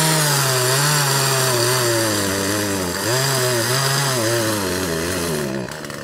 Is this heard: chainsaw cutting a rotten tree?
yes